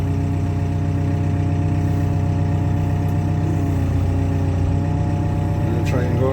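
An old, long-abandoned Caterpillar bulldozer runs steadily while being driven, a loud, constant low diesel rumble with layered mechanical hum, close and unbroken throughout.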